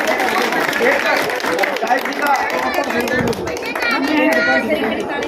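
Audience clapping to welcome councillor Swati Nahta at a neighbourhood campaign gathering, a dense, steady patter of many hands mixed with crowd chatter and talk throughout.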